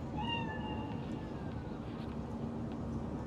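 A single cat meows in a quiet game scene from Cyberpunk 2077, a clear drawn-out call near the start that fades into a low steady ambient hum.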